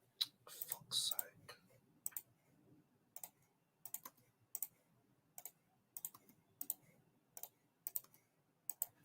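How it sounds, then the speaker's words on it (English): Crisp, irregular clicks repeat steadily at close range like keyboard keys, with some quiet muttered talk beneath them early on. "Ignore the clicking as well, guys, because I know you guys can hear it too."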